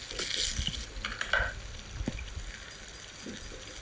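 Rice sizzles and scrapes in a pan as it is stir-fried for nasi goreng, with soft clatter and hiss throughout, fairly close and moderately loud.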